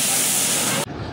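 Water poured into a pot of frying rice and mung dal for bhoger khichuri: a loud, close, rushing hiss of steam and spray that cuts off sharply near the end, leaving quieter bubbling.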